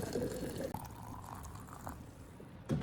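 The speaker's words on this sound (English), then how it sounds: "Once the water's boiling, open the thermos and pour the hot water inside." Hot water is poured into a thermos to preheat it, making a faint liquid gurgle that rises as the flask fills, with a few clinks and a louder splash near the end.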